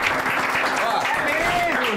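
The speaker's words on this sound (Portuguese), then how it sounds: "Salva de palmas pros nossos músicos aí" A round of applause for musicians at a casual live gathering: steady crowd clapping over two seconds, blended with overlapping chatter and a background melody.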